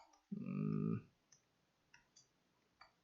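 A computer mouse clicks during 3D sculpting in ZBrush: a few faint, isolated clicks spaced well apart, following a brief louder tonal hum near the start, in a quiet room without talk.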